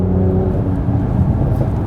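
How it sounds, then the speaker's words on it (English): A Mercedes C43 AMG drones loudly and steadily up close with a throaty engine note, a continuous exhaust rumble without distinct separated pops. "When you shift down, you can hear plop, plop, plop, plop"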